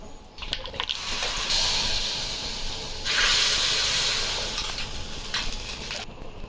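Cumin and asafoetida tempering sizzle loudly in hot ghee, a steady, close hiss that surges and fades as the pan is stirred.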